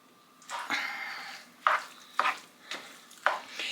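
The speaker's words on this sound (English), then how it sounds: "even better as I'm mixing everything together." A spoon stirs chicken, egg and rice dog food in a pan, with soft scraping and a few sharper clinks against the pan, alone and close.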